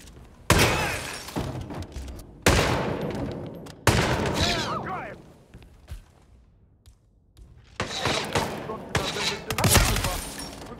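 Gunfire in the Hitman 3 video game: several loud, sharp bursts of shots separated by short lulls, with breaking-glass crashes mixed in and faint talk between volleys.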